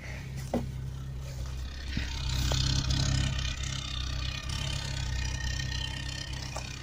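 A Felicia car's engine runs steadily at idle, a continuous low mechanical hum with a slight swell in the middle and faint ticking over it. No one speaks.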